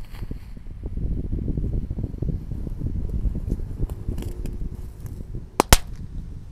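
Two tank-shaped firecrackers burning with a rough, continuous fizzing hiss that ends in a pair of sharp, loud cracks close together near the end, no voices.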